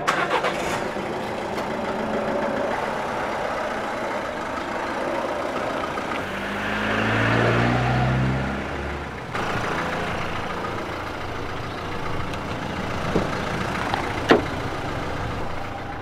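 Engine of a loaded car turning over and catching, then settling into a low running rumble as it pulls away slowly, with a few clunks and a sharp knock near the end.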